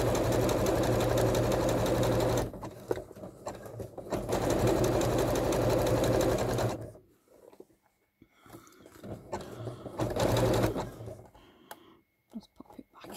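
A sewing machine stitches coiled rope into a bowl, running in two long loud bursts with a shorter run near the end, separated by quiet pauses with small handling noises.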